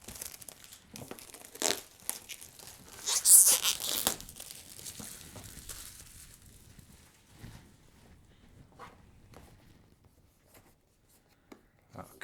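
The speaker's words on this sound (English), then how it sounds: "So let's do the unboxing part, actually. Let's rip it open." Packaging of a DJI Mic Mini wireless microphone is torn open by hand: close, loud crinkling and ripping bursts in the first seconds, then quieter intermittent rustles and a few small taps as the box is handled.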